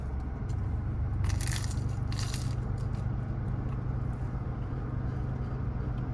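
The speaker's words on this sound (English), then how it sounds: "That crunch is superb." Someone bites into a crunchy black truffle bacon pizza, giving two short crisp crunching bursts close to the mic over a steady background hum.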